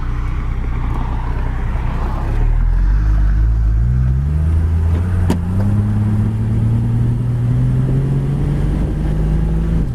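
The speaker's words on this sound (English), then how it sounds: "Picks up speed fine there." A 1968 Ford Mustang convertible drives and accelerates, its engine note climbing steadily through a gear change, loud and close with a deep rumbling drone and no voices.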